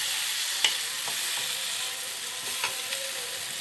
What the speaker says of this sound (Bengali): কিন্তু মশলাটা ভাজা হয়ে গেছে আর কড়াতে